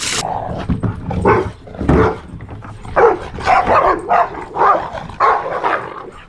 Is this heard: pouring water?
no